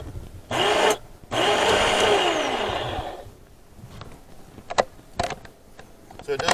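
Weston Deluxe electric tomato strainer motor whirring loudly for a few seconds, cutting out briefly, then grinding on before stopping, followed by quieter clicks and handling knocks.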